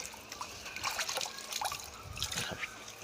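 Water trickles and splashes steadily over ripened mangoes as their sap is washed off, a soft, close, continuous pour with small dribbles and sloshes.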